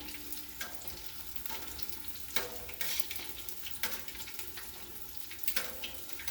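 Wontons fry in a pot of boiling oil, a soft continuous sizzle and crackle with occasional louder bursts, fairly quiet and with no talking.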